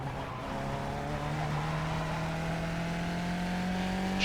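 Race car in the iRacing video game after a downshift, its engine holding a steady, sustained drone with pitch climbing slowly as it pulls through a banked corner, tires humming underneath, with no voices.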